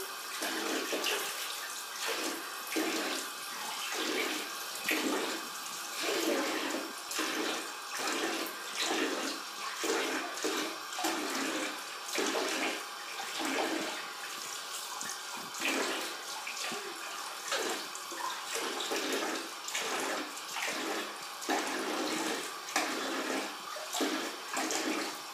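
Water running from a household faucet, a steady close splashing rush lasting the whole stretch, with a loose rhythmic pulsing as the flow is disturbed, and no talking.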